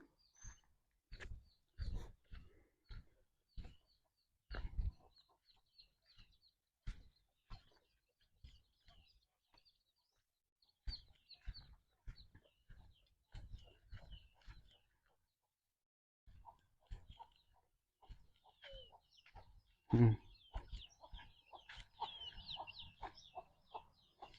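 Chickens and a rooster on a farm cluck in scattered short bursts, fairly close but quiet, with pauses between calls and a busier flurry of clucking near the end.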